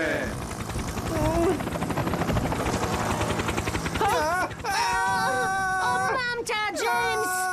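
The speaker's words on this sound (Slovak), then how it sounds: "Pomoc z helikoptére!" A helicopter flies over a rescue scene in the Fireman Sam cartoon. Its steady rotor drone runs throughout, mixed with music, voices and wavering tonal effects in the second half.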